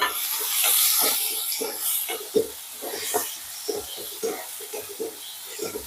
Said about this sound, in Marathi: कांदा टाकून घेतलेला आहे, त्याला परतून घेते।